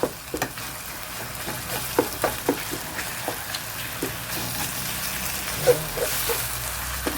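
Sardines frying in hot oil for a crispy popia filling, a steady close sizzle with scattered pops and crackles, no talk over it.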